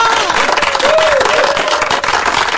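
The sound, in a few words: applause for radio show guests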